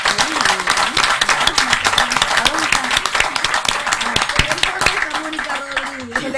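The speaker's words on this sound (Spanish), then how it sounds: "le pedimos un fuerte aplauso para ellas" Audience applause for Air Force nurses at a public interview event, loud, steady clapping from a large crowd that fills the whole stretch, with a voice speaking over it.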